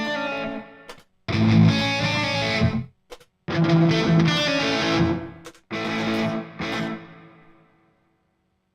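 An electric guitar played through an IK Multimedia TONEX pedal with reverb and delay rings out in a few strummed, distorted phrases separated by short pauses, each ending in a fading wash of echo.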